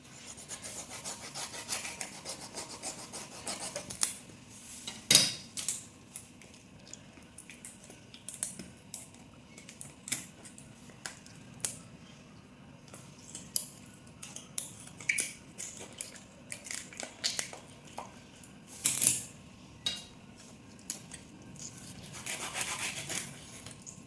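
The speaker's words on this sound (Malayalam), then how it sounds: "ഈ തലയുടെ ഭാഗം ചകിളയൊക്കെ കട്ട് ചെയ്ത് മാറ്റാം" A knife cuts the gills away from a para fish head, producing intermittent close scraping and rasping strokes with quiet pauses between them.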